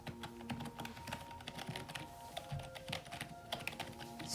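Typing on a Corsair K55 budget keyboard gives quick, uneven runs of soft, firm keystrokes that are close and fairly quiet, with no talking.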